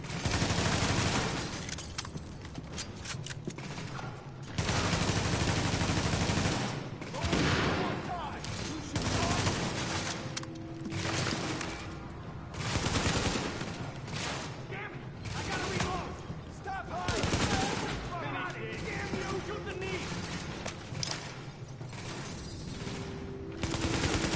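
Gunfire in the video game Tom Clancy's The Division on PS4 comes in dense, repeated bursts and sustained fusillades throughout. A voice talks over the shooting.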